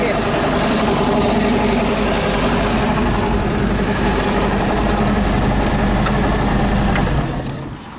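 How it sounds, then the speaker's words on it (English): Old outboard engine on a 1978 Hammond boat, running loud and steady up close for most of the clip before fading slightly at the end, with no talk. "So we got her running."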